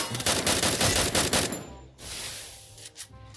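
An AN94 assault rifle in Free Fire fires a loud rapid burst for about a second and a half, followed by quieter scattered shots and game noise.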